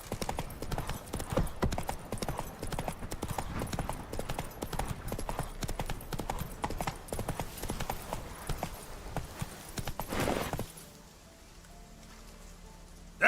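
Geralt's horse Roach galloping in The Witcher 3, a fast steady drumming of hooves close up for about ten seconds before cutting off to a quiet ambient hush.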